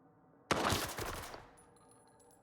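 A sudden close burst of rapid automatic gunfire in a video game, lasting about a second before fading into quiet background hum.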